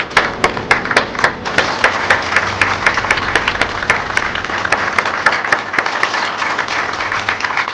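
Audience applause at a contract signing ceremony between Congolese companies and Huawei, a steady round of clapping with sharp individual claps standing out, sustained and fairly close throughout.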